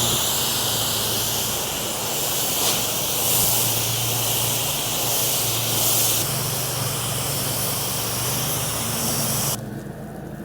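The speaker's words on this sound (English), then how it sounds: "Just doing a good hard rinse on this." A pressure washer blasts a concrete patio during a hard rinse, a loud continuous hissing spray with slight surges in intensity that cuts off abruptly just before the end.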